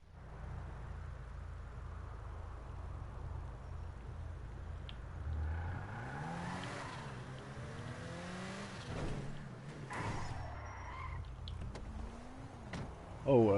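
The Elegy, a sports car modelled on the Nissan Skyline GT-R, drives in GTA V Online, its engine humming low and then revving with rising and falling pitch, moderately loud and without talk.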